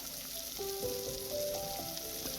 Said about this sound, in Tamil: காய்கறியும் இந்த வெங்காயத்தோடு சேர்த்து நல்லா வதங்கட்டும்.